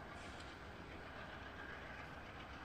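A passenger train with a baggage car and sleeping cars rolls past as a steady, continuous rumble of wheels on rails, fairly faint and heard alone.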